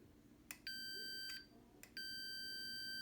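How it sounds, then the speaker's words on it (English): A multimeter continuity tester emits two sustained electronic beeps, each starting with a click, while probing from a ground post to a Fender Princeton amp chassis. The tone is clear and close against a quiet background, with no talk. "Let's do a quick continuity test from the ground post here to the chassis."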